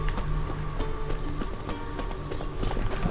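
Horse hooves clip-clopping along a path in the video game The Witcher 3: Wild Hunt, a steady run of close hoofbeats over a busy game soundscape with no talk.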